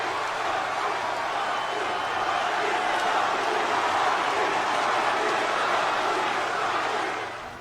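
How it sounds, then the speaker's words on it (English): A wrestling arena crowd roars and cheers in a steady, loud wall of noise that swells slightly and holds for several seconds before easing off at the end. "The crowd that night exploded."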